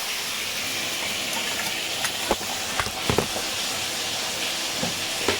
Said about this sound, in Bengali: চলুন আলুটা ভাজা ভাজা হোক